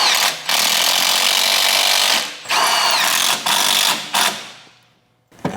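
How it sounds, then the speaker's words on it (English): Metal V-band clamps on AMG GT S turbo downpipes being tightened, with loud, dense ratcheting and grinding tool bursts in several long runs broken by short gaps, trailing off into near silence at the end. "Go ahead and tighten these V-bands up."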